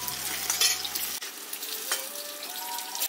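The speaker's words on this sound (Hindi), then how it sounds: "आलू को देखिए भून के हमें लाल कर लेना है" Potatoes frying in hot oil for poi sabji give a steady broadband sizzle with stirring scrapes, a low hum dropping out partway through, and no voices.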